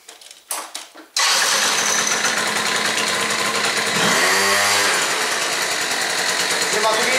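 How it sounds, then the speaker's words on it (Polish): A Ferro 50 two-stroke scooter engine cranks briefly, catches and settles into a loud, buzzing idle with a revving swell midway. "zobaczcie, jak ten skuter startuje teraz"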